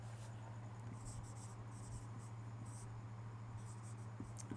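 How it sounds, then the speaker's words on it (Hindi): Chalk or marker scratches across a board as a sentence is written, faint short strokes in quick bursts over a steady low hum in a quiet room. "चलिए मैं आपको एक सेंटेंस लिखता हूँ"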